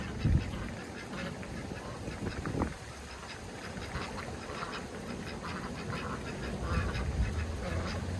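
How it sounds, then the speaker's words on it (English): Ducks quack in quick, scattered bursts, faint and somewhat distant, over a soft wash of running water from an above-ground pool. "Here come the ducks. They hear the water."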